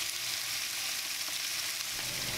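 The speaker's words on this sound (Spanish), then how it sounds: "Ya tenemos nuestro aceite caliente, vamos a echar nuestra cebolla." Onion frying in hot oil in a pan, a steady close sizzle that holds evenly throughout with no talking.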